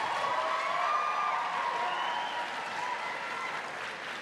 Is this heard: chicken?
no